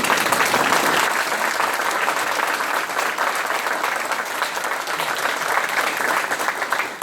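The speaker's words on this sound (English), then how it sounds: "I'd like to have a round of applause for each." A crowd at a city council meeting claps in a sustained round of applause, dense and steady throughout with a slight swell and no break.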